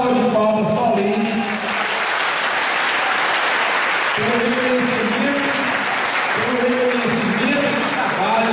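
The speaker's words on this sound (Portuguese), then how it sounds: "Eu quero uma salva de palmas solene" An audience at an adult-education event claps in solemn, sustained applause while a voice speaks over the clapping at several points.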